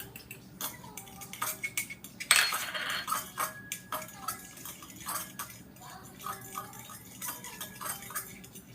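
Utensils clink and scrape against a bowl as cornstarch is mixed into water for a ketchup-based sauce, soft irregular taps and stirring sounds with one brighter clatter, quiet and close.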